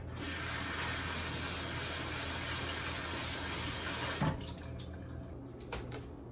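Tap water runs steadily into a sink for several seconds while rice is rinsed, then cuts off, leaving a few faint clinks and drips.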